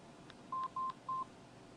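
Telephone keypad tones during a contact search on a phone system: three short, even beeps in quick succession, clear and close, alone over a quiet background.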